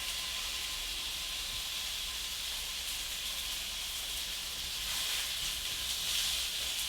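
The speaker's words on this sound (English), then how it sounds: "And then I'm adding the onions to the hot grease." Onions sizzling in hot bacon grease for German sauerkraut, a steady bright frying hiss that holds evenly throughout and swells slightly toward the end.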